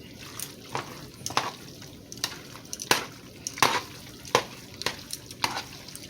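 Sautéed shrimp tumbled into creamy Alfredo sauce with spinach in a single pot, giving soft wet plops and a series of sharp metal utensil clinks against the pot at a steady, uneven rhythm, close and fairly quiet.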